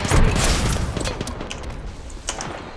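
Gunfire from the battle-royale shooter Apex Legends, a burst of rapid shots landing close and loud at the start, then fading into scattered, softer reports and impacts.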